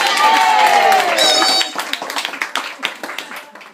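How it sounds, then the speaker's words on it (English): Audience clapping for the tree character at the close of a first stage show by a theatre troupe, a scattered round of hands that thins out after the first seconds. "a round of applause for the tree"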